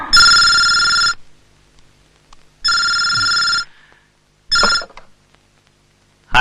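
A telephone rings loudly and close by in three separate bursts with quiet gaps between them, and no voices are heard.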